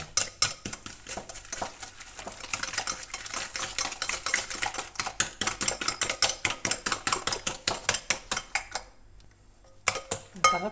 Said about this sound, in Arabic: ضربت البيض والسكر